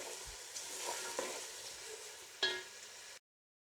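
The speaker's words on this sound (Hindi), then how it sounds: "चलिए अब आप देख सकते हैं प्याज तकरीबन फ्राई होने की तरफ जा रहे हैं।" Onions frying in a pan for beef nihari give off a quiet, steady sizzle with faint stirring scrapes, then the sound cuts to silence after about three seconds.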